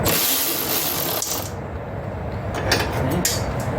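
A ratchet clicks rapidly while backing out a half-inch bolt under the seat of a zero-turn mower, a dense close metallic chatter that thins briefly, then resumes with a few sharper clicks.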